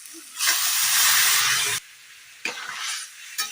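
Boiled peas are poured into hot fried spices for ghugni, setting off a loud, close hissing sizzle that swells for over a second, then a second softer burst and a brief final flare.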